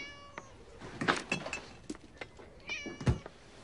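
A cat meows a few times close by in a French spy action film, with short, clear calls spread across a quiet indoor moment.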